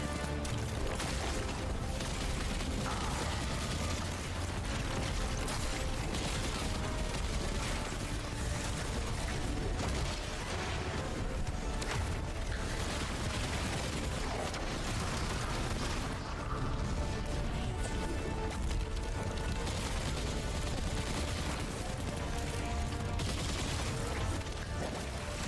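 Video game gunfire from behind cover, a dense continuous wash of shots, bursts and booms mixed loud throughout with no gaps.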